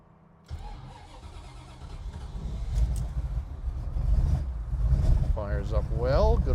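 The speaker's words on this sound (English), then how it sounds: "We're going to do a little cold start here." A 1969 Iso Rivola's Chevrolet small-block V8 cranks briefly on a cold start, then catches and settles into a loud, rumbling, uneven idle, with a person talking over it toward the end.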